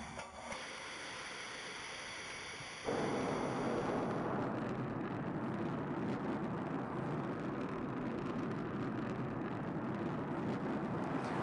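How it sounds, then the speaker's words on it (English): A SpaceX rocket about the size of a 12-story building blasts off. After a quieter hiss, its engine bursts into a loud, steady roar that fills the rest of the moment, with no voices. "a rocket blasting off"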